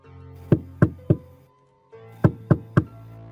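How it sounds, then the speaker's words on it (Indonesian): Knuckles rap on the wooden door of a house in an illustrated village ghost story: two sets of three sharp, evenly spaced knocks separated by a brief silence, loud and close with a slight room echo. "mereka pun kemudian mengetuk pintu rumah tersebut"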